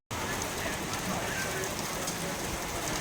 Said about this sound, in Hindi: शाम के वक्त मौसम कुछ ऐसा हो गया है और ओले पड़े हैं साथ में।